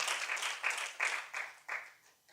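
An audience claps at a Shrimad Bhagavat Katha religious discourse, short bursts of applause rising and fading several times and tapering off toward the end, with no speech over it.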